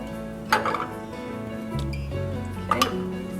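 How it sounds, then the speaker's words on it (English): A spoon stirs coconut cream in a cup, giving two sharp, close clinks against the rim with softer scraping and stirring between them. "you're gonna blend it with a spoon"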